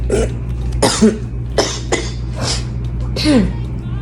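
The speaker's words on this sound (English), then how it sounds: "I have a little bit of a cough." A few short, harsh coughs spaced irregularly, close by, over a steady low hum.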